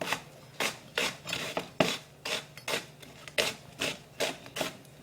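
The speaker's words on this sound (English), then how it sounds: "Alright, so basically I've just cut my onion all down one way" A knife slices through an onion on a cutting board in quick, even rasping strokes, about a dozen crisp cuts in a steady rhythm, close and alone without speech.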